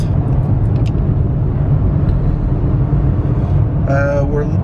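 A V8 Volkswagen Touareg climbs a hill while towing a load, a steady loud engine drone under road and wind noise running throughout, with a brief rising tonal whine near the end.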